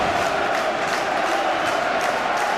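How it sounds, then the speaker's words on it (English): Oxford United supporters roar behind their side at a 2007 match against Exeter City, a steady, dense wall of crowd noise that holds at full volume with no single voice standing out. "the Oxford United crowd getting right behind their side now, trying to will them to score again"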